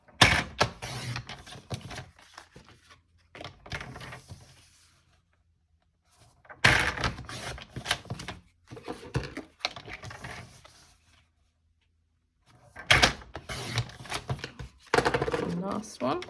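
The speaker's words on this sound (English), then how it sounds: "I'm going to bring my trimmer in, and I'm going to cut each one of these in half" A paper trimmer slices card pieces in half, making several bursts of sliding and cutting noise separated by quiet gaps, close and fairly soft.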